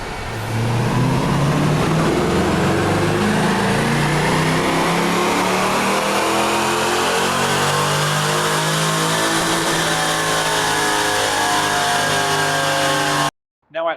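A car engine on a dyno at 24 degrees ignition timing revs steadily upward at wide open throttle, a loud continuous sweep climbing in pitch for about thirteen seconds before cutting off abruptly, followed by a brief final rev.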